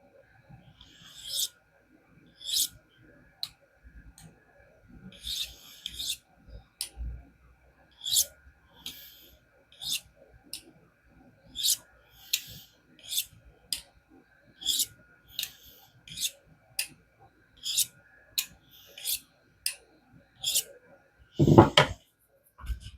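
A knife blade drawn across a ceramic honing rod to clear a burr, giving evenly spaced, crisp scraping strokes one after another, about twenty in steady rhythm, with a louder knock near the end.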